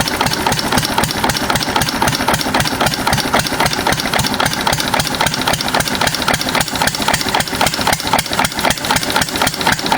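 An old 6 HP Witte single-cylinder diesel engine idling with a steady, loud, evenly spaced thumping beat and a metallic knock on each stroke, running alone at close range.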